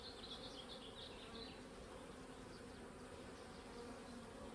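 Honey bees in an open hive being inspected, a faint steady buzzing hum with occasional higher-pitched flight whines close by, no voices.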